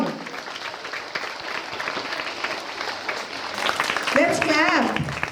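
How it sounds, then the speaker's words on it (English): Applause at an interhouse school swimming gala, a steady clatter of many hands swelling toward the end, with a voice speaking over it in the last seconds. "Let's clap."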